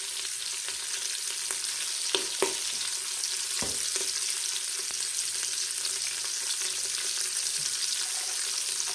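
Cabbage and sausage browning in a hot Instant Pot give off a steady, loud sizzle and frying hiss, with a few faint clicks and scrapes from stirring.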